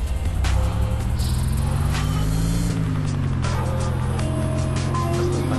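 A car engine in DayZ on ArmA 2 drives and revs steadily nearby, its pitch rising and falling. Scattered clanks and other game noises sound over it.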